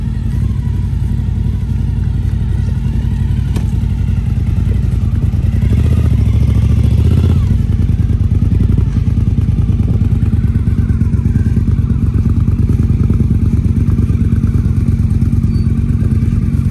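Motorcycles riding in the rain in St. Lucia on an early morning, a loud, continuous engine drone close by with a short revving swell in the middle.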